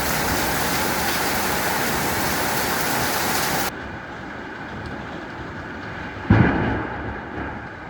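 Thunder rolls through a heavy storm, with loud steady rain hissing at first, then a quieter stretch before a sudden close crack of thunder that rumbles and fades.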